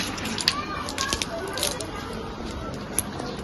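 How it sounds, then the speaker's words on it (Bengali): A child waters garden plants, producing a steady hissing spray of water with scattered splashes, while people talk throughout. "দেখো মেয়ে এখন গাছে জল দিচ্ছে"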